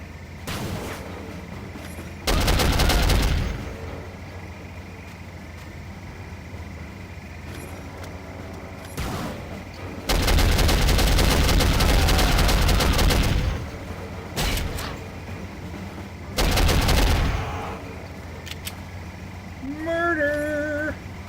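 Bursts of gunfire from the PC shooter Soldier of Fortune, with three long loud volleys of rapid shots and shorter bursts between them, fairly close and without talk.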